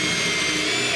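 A loud power drill whirs steadily for a moment, a grinding mechanical buzz up close.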